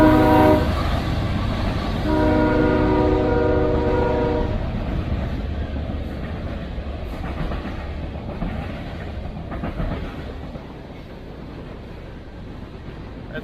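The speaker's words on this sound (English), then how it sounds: "a train is coming." A train passes right beside railroad tracks, first sounding a long, loud multi-tone horn, then a heavy rolling rumble with faint clatter that slowly fades as it moves away.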